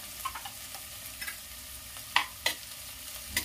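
Chopped ginger, garlic, bay leaf and two dried red chillies fry with onions in a pan, a soft steady sizzle broken by several sharp stirring clacks.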